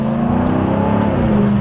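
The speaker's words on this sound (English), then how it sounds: "I'm going to downshift a little bit. I've got the exhaust open." A Jaguar F-Type 5.0 V8 with its exhaust open, downshifting, a loud close deep engine rumble that holds steady and then drops in pitch.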